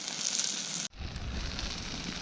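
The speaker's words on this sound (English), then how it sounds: "I'm just frying up the veg right now" Vegetables sizzling and crackling in a hot pan on a canoe camping trip, a steady hiss that cuts briefly before resuming.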